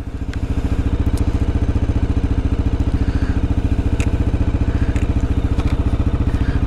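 A 2022 Kawasaki KLR650 single-cylinder motorcycle catches and settles into a steady, close, loud idle, its rapid even thumping pulses running unbroken throughout with no voices over it.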